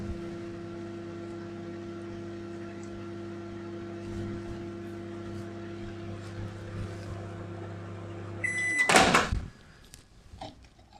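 A microwave oven heating ginger beer syrup runs with a steady, low electrical hum for several seconds, then ends in a sharp beep and the loud clunk of the door near the close.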